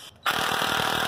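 A Sunex impact wrench kicks on suddenly after a brief quiet moment and runs with a loud, close, rapid hammering rattle that holds steady to the end.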